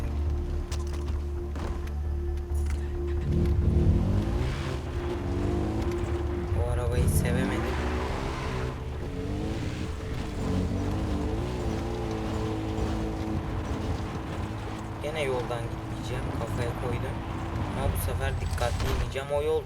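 An ATV engine drones steadily in the video game Far Cry 3, rising and falling in pitch as the vehicle accelerates and shifts, with someone talking over it throughout.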